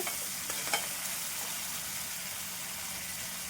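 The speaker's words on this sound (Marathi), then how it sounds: "त्याला व्यवस्थित तेल सुटेपर्यंत आपण भाजून घेणार" Ground onion-garlic masala paste frying in oil in a pan for a curd and eggplant dish gives a steady, soft sizzle, with a few light spoon scrapes near the start.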